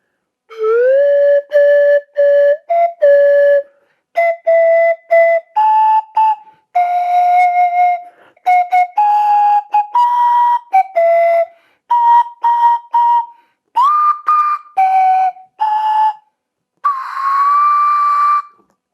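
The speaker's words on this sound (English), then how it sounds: "But you can actually play songs on it." Slide flute playing a melody in clear, pure whistling tones, a steady string of short and held notes with small pitch slides between them, close and prominent for nearly twenty seconds, no voices.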